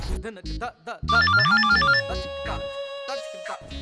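A phone rings with a bright, repeating electronic ringtone melody in a domestic sitcom scene, brief and fairly loud amid voices and background music.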